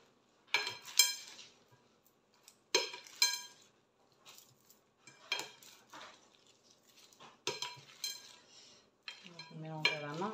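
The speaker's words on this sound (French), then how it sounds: "Je mélange à la main, j'ai les mains propres." Food being mixed by hand in a bowl in a home kitchen: soft squelching and clattering bursts in irregular clusters, close and moderately loud, with short pauses between handfuls.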